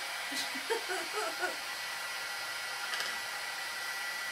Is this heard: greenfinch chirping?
no